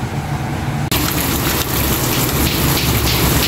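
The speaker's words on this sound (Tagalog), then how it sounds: "Tinitignan-tignan ko po yung ulan kung alis na kami ni Aya or patilahin namin ng konti." Heavy rain pours during a typhoon, a dense and loud hiss of drops pounding surfaces that holds steady throughout, with a faint engine-like rumble underneath.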